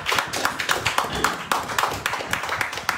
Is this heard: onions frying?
no